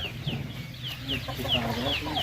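A turkey on a farm gives a run of short, quick, downward-sliding calls, repeated several times at close range over a busy outdoor background.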